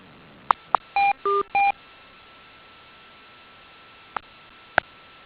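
Touch-tone dialing on a conference phone line: a few short beeps, then three longer tones in quick succession, then two more isolated beeps after a quiet gap over faint line hiss.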